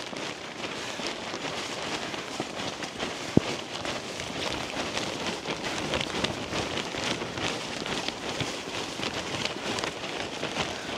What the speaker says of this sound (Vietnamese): Càng lúc càng mưa to.